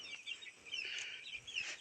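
Backyard chickens, 37-day-old chicks being fed, cluck and chirp in a steady, moderately close chatter with no one speaking.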